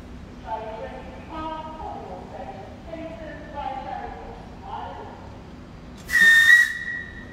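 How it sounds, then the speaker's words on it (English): London Underground Northern Line train whistle sounding once, a loud shrill blast standing out near the end after quieter chatter and background rumble. "could you give us about 4 whistles?"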